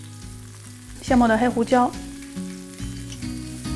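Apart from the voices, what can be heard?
steak frying in olive oil in hot pan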